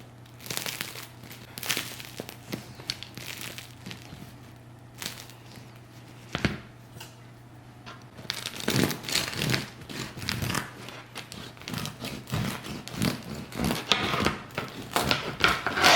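Knife sawing through a crusty cranberry pecan sourdough loaf, close up: dry crackling crunches that come in bursts, sparse at first, then denser and louder in steady back-and-forth strokes.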